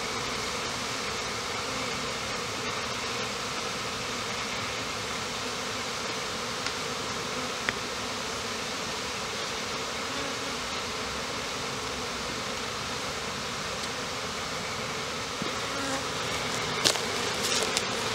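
Honeybees from a package colony hum in a steady, dense swarm around an open hive during comb inspection, a continuous close buzz with no voices.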